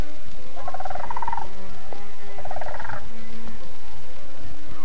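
Two rolling, rattling calls from a sandhill crane on the prairie, each lasting about a second, clear and fairly near against a quiet outdoor background.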